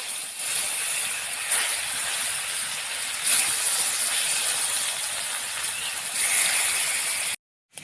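Pomfret (rupchanda) fish hitting hot oil in a pan gives a loud, steady, hissing sizzle that fills the whole stretch, with small surges, then cuts off abruptly just before the end.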